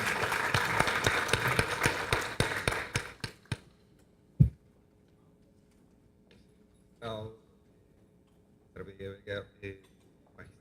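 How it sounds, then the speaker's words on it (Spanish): A seminar audience claps warmly to welcome a distinguished guest speaker, a dense burst of applause that fades out after a few seconds, followed by sparse talk. "Dejo con ustedes con un aplauso cariñoso para nuestro distinguido invitado"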